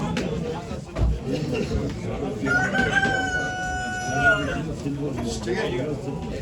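Chickens at a poultry auction, with a rooster crowing once in a long drawn call midway, surrounded by a busy crowd of people talking throughout.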